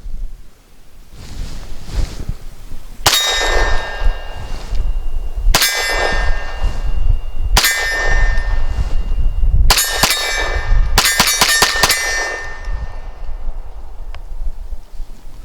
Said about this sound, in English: Just first 10 shots to get a feel for it.